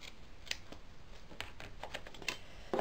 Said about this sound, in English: You don't want to cut all the way through.